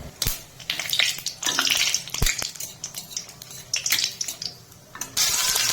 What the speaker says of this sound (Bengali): কড়াইয়ে সরষের তেল দিয়ে ফোড়নে দিচ্ছি দুটো শুকনো লঙ্কা